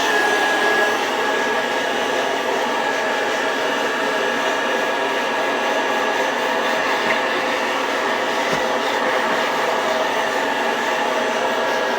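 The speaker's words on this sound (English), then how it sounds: "he's going to scour the whole top of the boiler vessel, make it look nice" A Harbor Freight wire brush scouring the top of a heater's boiler vessel during cleaning gives a loud, steady, unbroken whirring roar close by for the full stretch, with no talking.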